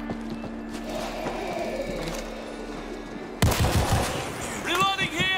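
Heavy gunfire in World War Z: Aftermath, starting abruptly partway through as loud rapid bursts from a big gun, with zombie screeches and shouting voices rising toward the end.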